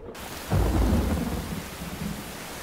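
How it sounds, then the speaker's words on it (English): Thunder crashes in at once as part of a heavy thunderstorm with pouring rain, a loud rolling rumble that booms and then slowly trails off over steady rain, with no voices. "A little rain never hurt anyone."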